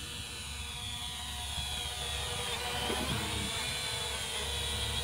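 An Eachine E58 quadcopter drone hovers with a steady, high-pitched buzzing whir of small propellers, continuous and fairly close, with no talking over it.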